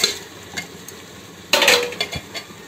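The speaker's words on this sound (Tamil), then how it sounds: "ரைஸ் ஆட் பண்ணிவிட்டு கொஞ்சம் கிளறி விட்டுட்டு" Rice being added to a pan of sautéed paste and stirred for coconut milk rice, soft sizzling with a sudden clattering burst of grains and utensil scrapes partway through.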